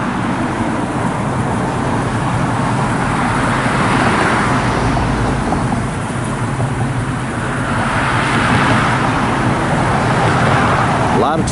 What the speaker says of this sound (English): A lot of traffic today.